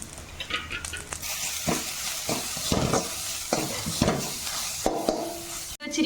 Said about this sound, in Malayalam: ഇതെല്ലാം കൂടെ കൂട്ടി നന്നായിട്ടൊന്ന് ഇളക്കി കൊടുക്കുക.